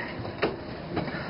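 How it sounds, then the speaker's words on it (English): London Underground train, a low continuous rumble with faint rhythmic clacks from the rails, steady and moderately loud throughout. "the rumble of the subway train"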